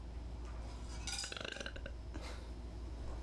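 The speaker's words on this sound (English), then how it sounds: "After the burp." A single close burp during a puppet interview, a short raspy rumble lasting about half a second in a quiet room, with no talking.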